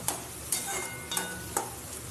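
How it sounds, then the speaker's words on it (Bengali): Potatoes stirred with salt and turmeric in hot oil, a soft continuous sizzle broken by four sharp scraping strokes of the spoon at a regular rhythm. "এবার তেলের মধ্যে এটাকে একটু নাড়াচাড়া করতে হবে"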